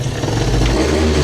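A small scooter engine idles close by in a brief, steady burst of low, buzzing drone with a slight mechanical clatter.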